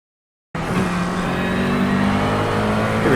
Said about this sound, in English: Today we're racing GT3 cars at Canadian Tire Motorsports Park.